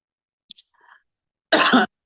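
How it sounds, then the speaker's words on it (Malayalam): A person suffering from a persistent cough for several days lets out a single harsh, close cough after a few faint small mouth and breath sounds. "ചുമച്ചു കഴിഞ്ഞാൽ പിന്നെ ചുമ നിർത്താൻ പറ്റത്തില്ല, അങ്ങനെയൊരു പ്രശ്നമുണ്ട്."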